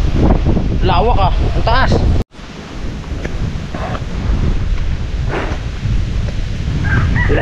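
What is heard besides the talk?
strong wind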